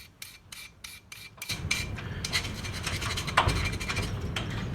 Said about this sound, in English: ground that side down, grind this side down